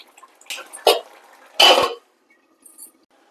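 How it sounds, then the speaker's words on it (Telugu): A metal lid clinks down onto a cooking pot of prawn curry, two short clanks followed by a louder settling rattle, close and clear in a quiet kitchen. "మూత పెట్టేద్దాం."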